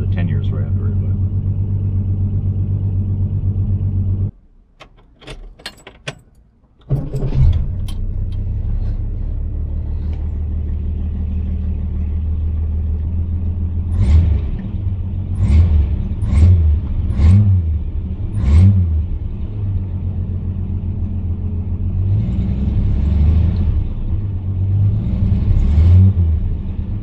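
A 1966 Valiant engine runs with a steady low rumble that cuts out briefly near the start, then revs in a series of sharp, rhythmic bursts, with a voice speaking over it.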